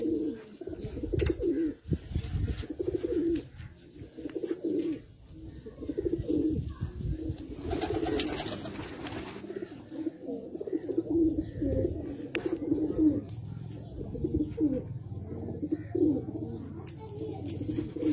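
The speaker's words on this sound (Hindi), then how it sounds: "टेडी कबूतर माशाल्लाह बहुत आउट क्लास," Teddy flying pigeons coo steadily in a breeder's loft, soft rounded calls repeating close by with a few brief chirps, a rumbling room tone and scattered handling noises underneath.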